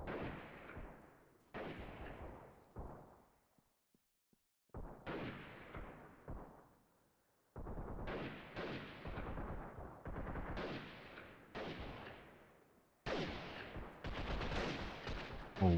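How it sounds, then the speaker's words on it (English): Gunfire aimed at the player in the video game Freeman: Guerrilla Warfare: loud, close bursts of shots in several separate volleys, with short gaps of quiet between them and heavier firing toward the end. "Oh, they're shooting me."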